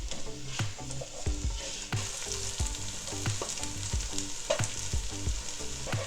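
Onions frying in a pot for lamb yakhni pulao give a continuous soft sizzle, punctuated by regular clinks and knocks from stirring, with faint tonal sounds in the background and no speech.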